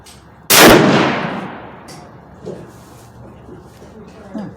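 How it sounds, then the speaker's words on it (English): A single loud, close rifle shot from a Savage Axis .308 with a Bushnell scope at a 100-yard range, a sharp crack followed by a long decaying echo and quiet outdoor ambience. "I'm gonna go for 3 shot group, no adjustment, just single, and I'm gonna be shooting at the left low target"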